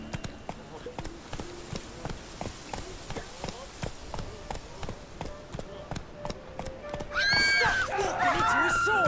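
Geralt's horse Roach from The Witcher 3 gallops in a quick, steady clip-clop rhythm of hoofbeats, followed by a loud, close neigh near the end, with in-game voices speaking.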